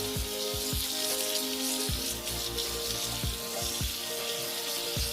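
Sandy-coloured rocks are rinsed under running water from a tap, a continuous splashing hiss with scattered clinks and knocks of stones shifting.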